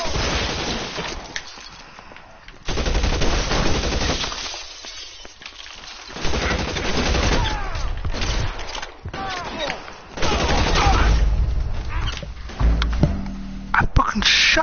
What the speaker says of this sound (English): I fucking shot him